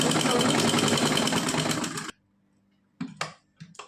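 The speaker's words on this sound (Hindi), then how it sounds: "तो मैं यहाँ पे डबल सिलाई लगा" A sewing machine running a double line of stitching on net fabric: a loud, dense burst of rapid needle clatter for two seconds that stops abruptly, followed by near silence and a few short knocks.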